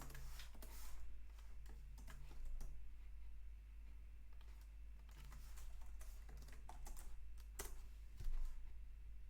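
Close, quiet clicks from a computer keyboard as numbers are typed into an Excel spreadsheet. The keystrokes come in short irregular bursts over a low steady hum, with no talking.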